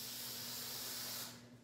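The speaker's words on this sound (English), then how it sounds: "multi-spray adhesive" Multi-purpose spray adhesive hisses from a can in a woodworking shop, a short, steady, close spray burst lasting just over a second before trailing off.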